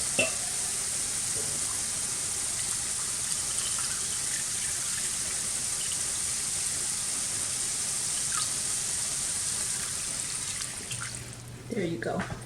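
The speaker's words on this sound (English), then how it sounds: "So I am going to add another cup" A cup of water poured into a hot pan of store-bought stuffing brings a steady, loud sizzle and hiss that holds for several seconds and then tapers off at the end.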